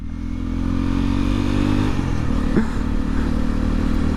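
A motorcycle engine runs loud and steady during a ride out of Istanbul toward Silivri and Çatalca, a deep continuous drone with a brief rattle midway and no voices.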